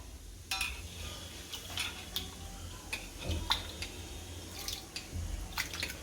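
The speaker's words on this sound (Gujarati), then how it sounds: "આપણું તેલ ગરમ થાય ત્યાં દાળમાંથી પાણી બધું કાઢી લઈએ।" Water is drained off soaked mung dal in a home kitchen, a scatter of drips and small clinks of a metal pot and utensils, faint and irregular, with no talk.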